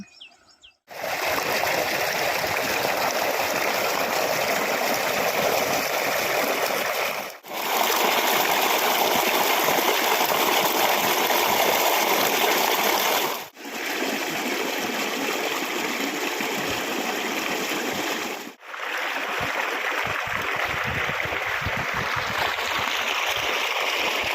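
Water gushes loudly and continuously from a farmhouse borewell pipe in a village, a dense rushing roar broken by a few brief dips, with faint birdsong behind it.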